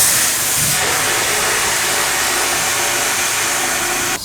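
Vapor hone wet blast cabinet cleaning a carburetor, a loud, steady, broadband spray hiss that runs continuously up close before cutting off at the end.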